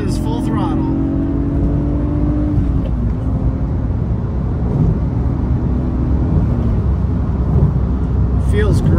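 A BMW E36 M3 heard from inside the cabin accelerates at full throttle, giving a loud, sustained engine roar with rising tones that shift and drop as it changes gear, over constant road noise.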